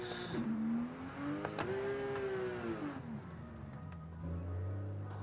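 Car engine in Forza Horizon 5, played on a Porsche steering-wheel rim with paddle shifters, revving up and easing off as the car is driven, with a gear change and a lower steady tone near the end.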